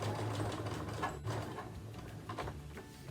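A sewing machine runs steadily through a hat seam, its fast needle chatter and motor hum close and continuous before easing slightly near the end.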